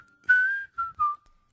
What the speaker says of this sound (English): Let's make them whistle, y'all.